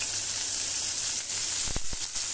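Onion, capsicum and tomato lightly roasting in a pan for an aloo tikki burger, producing a soft, even hiss of frying with a few brief spoon taps near the end, no voices.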